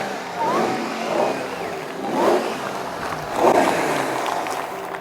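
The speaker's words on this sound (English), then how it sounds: "And they're just in there revving." A powerful V8 truck engine revs in repeated surges, rising and falling several times at moderate distance with a rumbling, throaty tone.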